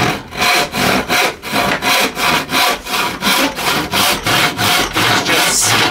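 A file rasps across the teeth of an old, rusty rip hand saw, in steady, even strokes roughly twice a second, close and loud with no talking.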